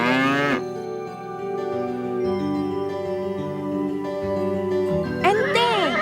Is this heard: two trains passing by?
no